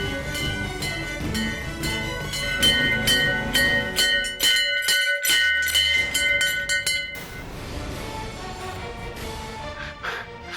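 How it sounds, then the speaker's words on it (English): A temple bell rings close by in a dramatic scene, its bright sustained metallic tones layered over dense background music and hits for about seven seconds before fading into softer ambience. "Jeet, can you hear the bell ringing?"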